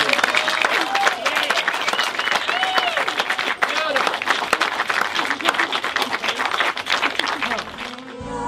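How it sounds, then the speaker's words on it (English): Wedding guests applaud loudly right after a couple is pronounced husband and wife, dense continuous clapping from a crowd with cheering and voices mixed in, fading out at the end. "Big round of applause, please."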